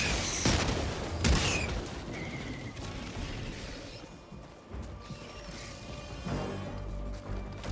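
Gunfire and grenade blasts from the video game Helldivers 2 on a challenging solo mission sound as a dense, continuous barrage of sharp shots and heavy booms with no clear pause.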